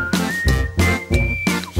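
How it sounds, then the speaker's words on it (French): A person whistles a short, bright melody in a few rising and sliding notes, with soft thumping sounds in the background between phrases. "je sifflerai après ça"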